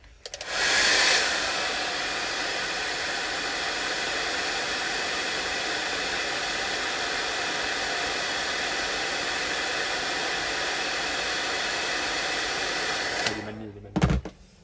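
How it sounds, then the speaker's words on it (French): A hair dryer blows steadily with a loud, constant whooshing hiss for several seconds, then cuts off with a click and some handling noise. "je vais refaire ma technique du bon sèche-cheveux"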